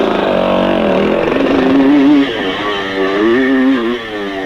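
A 1972 Yamaha DT2MX motocross motorcycle accelerates hard with a loud, close two-stroke engine, its revs climbing and dipping through a gear change.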